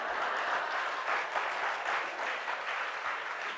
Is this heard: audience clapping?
yes